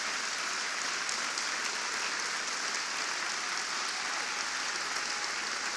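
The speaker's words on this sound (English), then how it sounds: "We owe this man a warm round of applause." A large audience at the National Urban League State of the Urban League address gives a warm, sustained round of applause, dense and steady throughout.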